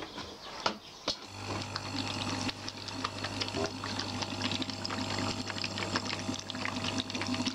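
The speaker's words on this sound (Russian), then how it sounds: "Включаем сначала ионизатор. Ну, можно назвать его озонатором." A water ionizer, also called an ozonator, switches on with a click and then runs with a steady motor hum and bubbling water, with faint irregular gurgles over the constant drone.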